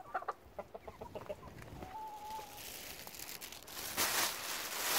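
Several hens cluck in short bursts at close range, followed by a brief rising tone and rustling, crinkly noise that grows louder toward the end.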